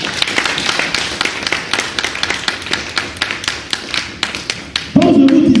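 A church congregation claps rhythmically and loudly, a steady series of sharp hand claps about twice a second, ending with a sustained swell of voices and cheering.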